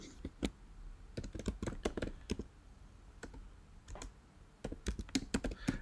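Quick bursts of keyboard typing, sharp clustered key clicks with a short pause in the middle before another flurry of keystrokes.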